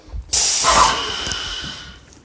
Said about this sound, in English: And I'm spraying, I'm using an HEA tip today, so it requires a lot less pressure